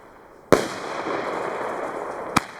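A Piromax Roman candle firework fires one sharp, loud shot that is followed by a crackling, hissing trail, then a second bang about two seconds later, heard outdoors.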